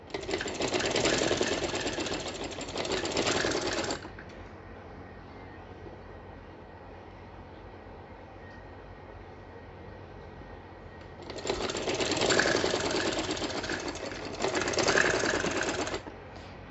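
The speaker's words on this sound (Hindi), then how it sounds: "मैं बैक साइड में स्टिचिंग करनी हूँ, अगर आप चाहें तो फ्रंट में भी कर सकते हैं," A sewing machine stitches piping onto fabric for a small-piece dress sleeve, running in a four-second burst, pausing to near quiet, then starting again in two short close runs.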